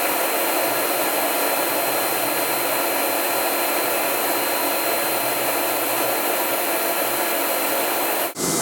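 The air blower of a Versa Spa spray-tanning booth runs a dry pass as a loud, steady, close rushing hiss without change, cutting off abruptly near the end; no voices.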